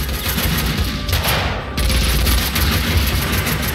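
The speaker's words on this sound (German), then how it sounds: "zum Glück kann er auch gut selbst schießen" Sustained gunfire in the Max Payne 2 video game, dense overlapping shots forming a loud continuous barrage with a brief dip partway through.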